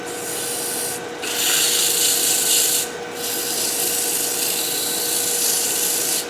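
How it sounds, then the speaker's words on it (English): Steady, continuous abrasive rubbing of hand sanding on carved wood, close and fairly loud, with two brief pauses as the strokes restart; no voices. "if you get a clean cut the first time, it doesn't take a whole lot of sanding"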